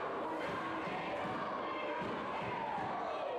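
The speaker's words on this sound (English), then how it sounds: "Crowd excited." Dense, excited wrestling crowd noise at a show in Barberville, Kentucky, a continuous roar of cheers and shouts with a rising whoop near the end and soft thumps beneath.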